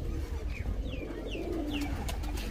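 Domestic pigeon hen that has just laid an egg, cooing in repeated soft throaty calls against a steady low background hum, with no talk.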